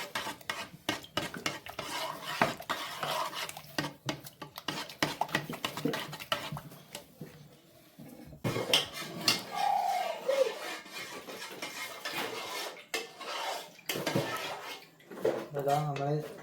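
Cornflour being stirred into grape juice in a pan for grape halwa, with rapid clinking and scraping of a utensil against the metal pan in quick bursts and short pauses, fairly quiet and close, with faint background sounds.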